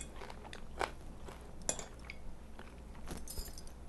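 Crunchy bites of kale salad with roasted fall roots, pine nuts and garlic, heard as a few close, quiet chewing crunches with a faint clink of cutlery, no talking.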